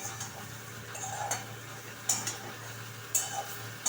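A spatula stirs fried potatoes with coriander powder in a pan, making quiet, scattered scrapes and sharp metallic clinks about once a second over a low steady hum.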